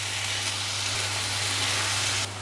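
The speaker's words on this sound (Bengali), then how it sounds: "এমনি ছোট চিংড়ি কুচিয়ে নিয়েছি, এটা এর সাথে এখানে ভেজে দেবো" Small chopped shrimp fry with pointed gourd in a pan, making a steady, dense sizzling hiss that holds evenly and then cuts off abruptly just before the end.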